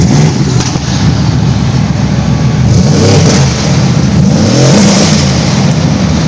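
A turbocharged AMG V8 car engine revs loudly up close, rising and falling in throaty bursts with a deep rumble throughout.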